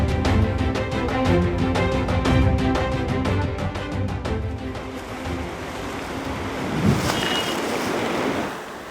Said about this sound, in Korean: 강한 바람과 함께 방파제 밖에는 높은 파도가 몰아칩니다